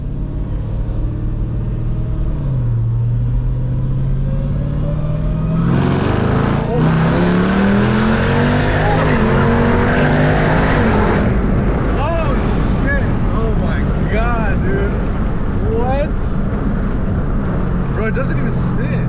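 A 900-horsepower Jeep Grand Cherokee Trackhawk on street tires accelerates hard through a pull. The engine roars loud and close inside the cabin, with pitch climbing through shifts and blower whine, while occupants talk and shout excitedly.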